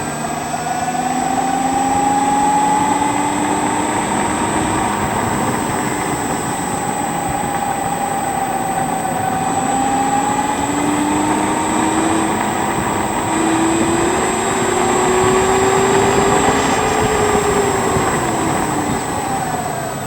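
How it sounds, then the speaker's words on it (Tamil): A 2025 Ampere Nexus ST electric scooter runs steadily, its motor giving a continuous hum with slowly rising and falling whine tones, close and loud throughout without a break. "இப்போ இந்த இடத்துல மாட்டிட்டு எக்ஸாக்டாக இந்த வண்டியோட சவுண்ட் எப்படி இருக்குது அப்படின்றத நம்ம செக் பண்ணி பார்க்கலாம்"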